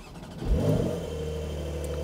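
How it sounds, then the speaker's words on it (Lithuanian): A Porsche 911 Carrera 4S engine fires up with a brief surge in the middle, then settles into a steady, close idle hum with no talking. "Tai dabar užsikursiu."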